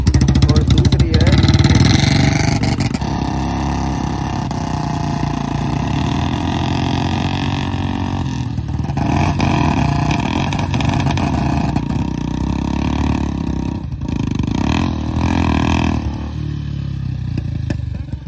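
Royal Enfield Electra 350 and Standard 350 motorcycles being ridden: a loud, continuous engine rumble with revving surges and clattering throughout, up close.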